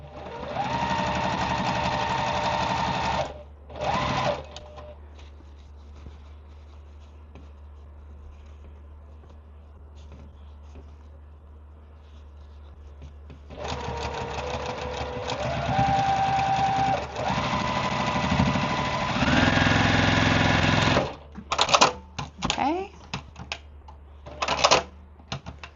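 Rows of a quilt block are joined on a sewing machine, running in bursts of steady mechanical hum with short stops and a quiet stretch between, nearby and loud.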